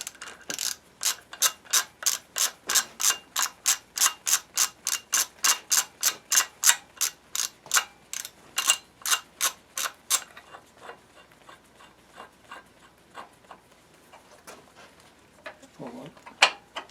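Mercury 225 outboard engine turned over by hand with a wrench, a rapid run of sharp, evenly spaced ratchet clicks for about ten seconds that then slow and thin out into faint, sparse clicking.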